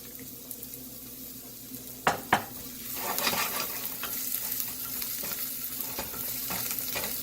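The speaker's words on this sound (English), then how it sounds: "we're going to be sweating out a couple tablespoons of garlic" Garlic sweating in a little oil in a pan gives a quiet, steady sizzle, with a couple of sharp utensil clicks early on and soft stirring scrapes throughout.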